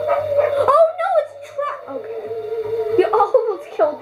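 A dog yipping and whimpering in LittleBigPlanet, a series of short, close cries over a steady game music tone, with a brief pause midway.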